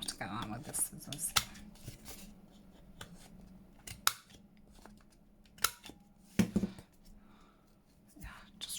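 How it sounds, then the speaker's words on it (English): Soft scissor snips cutting paper and crisp paper rustles come in scattered bursts, close up, with quiet whispered talk in between. "I think I'll have to get that with the scissors."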